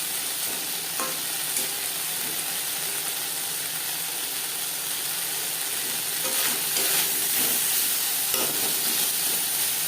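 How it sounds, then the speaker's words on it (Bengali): Eggplant frying with spices in oil for a katla fish curry, a loud continuous sizzle and hiss with occasional stirring scrapes. "মশলার সাথে চার পাঁচ মিনিট বেগুন ভেজে নেওয়ার পর"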